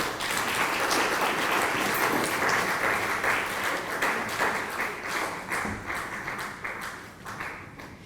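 A conference audience at a regional plenary session gives a sustained round of applause, dense clapping from many hands that holds steady before gradually thinning and fading out.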